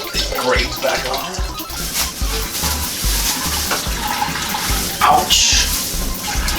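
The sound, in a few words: liquid draining from squeezed grain bag while homebrewing stout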